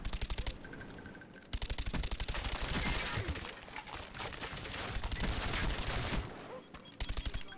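Rapid bursts of AK rifle fire in a Call of Duty match, loud and close, with sustained automatic volleys broken by a couple of short pauses.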